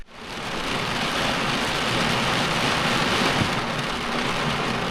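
Steady heavy rain pours down at a campsite in a southwest Colorado valley, a dense, loud, unbroken hiss close around with no voices.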